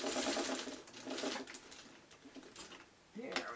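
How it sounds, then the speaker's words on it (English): A sewing machine runs stay stitching around the edge of a traditional pieced quilt block, a steady mechanical whir in short bursts with brief pauses, fairly close and moderately loud. "I'm just going to run my stay stitching around"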